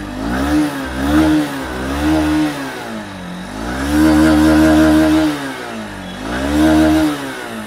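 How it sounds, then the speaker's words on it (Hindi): A Honda Unicorn 160 motorcycle is revved repeatedly through its exhaust, loud close bursts of engine sound climbing and dropping in pitch again and again, with no talking. "थोड़ा सा इस गाड़ी का एग्जॉस्ट साउंड आपको मैं चेकआउट करा देता हूँ।"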